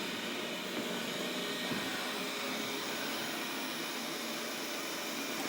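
A Narwal T10 robot vacuum runs its first mapping pass, a steady, fairly quiet airy whir with a broad hiss that holds even throughout, with no talking.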